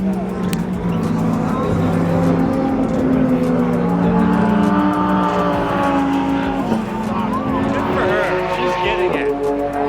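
A Nissan R35 GTR drives down a race track straight, its engine a loud sustained drone with shifting pitch as it accelerates past, mixed with excited voices talking nearby throughout.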